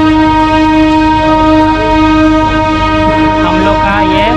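A Lalgola EMU passenger train passes close by, loud and steady, its wheels rumbling along the rails with a sustained horn tone throughout.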